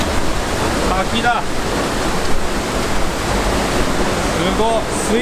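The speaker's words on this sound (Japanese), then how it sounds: "滝だ" A waterfall in the Amazon roars as a dense, steady rush of water close by, with a few faint voices briefly over it.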